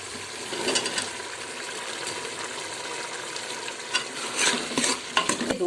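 Potatoes and minced mutton keema stir-fry for aloo keema in a pan, a steady sizzle broken by scraping stirs that grow busier and louder toward the end.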